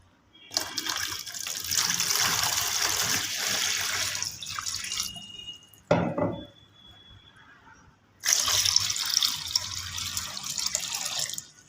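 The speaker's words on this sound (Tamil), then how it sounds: "இதில் இப்போ தண்ணி ஊற்றிடலாம் கைஸ்" Water gushing from a tap into a betta fish breeding tank, a loud steady pour that breaks for a moment with a splash and a trickle, then resumes strongly, with no speech.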